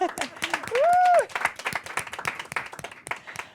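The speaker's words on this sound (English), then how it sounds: "Give a big applause for you." Applause after a pitch at a hackathon final round, scattered clapping that starts with a cheer or whoop from the crowd, then thins into uneven individual claps, fairly close and moderately loud.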